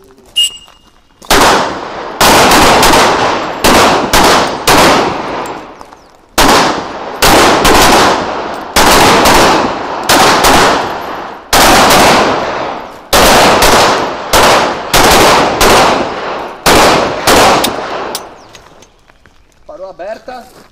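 Loud, close gunshots in rapid bursts during vehicle combat training, sharp cracks repeating in uneven volleys with brief gaps, fading to quiet at the end.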